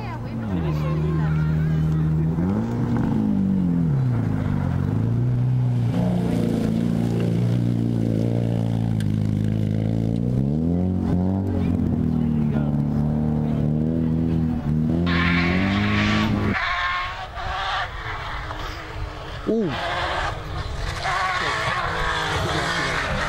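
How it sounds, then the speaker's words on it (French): A Nissan-engined rally prototype races along a stage at a dunes-and-marsh rally, its engine loud and close as it revs up and down through the gears with brief tire squeal. A commentator talks over the engine throughout. "il attaque hein, le pilote d'Orléans avec son proto motorisé"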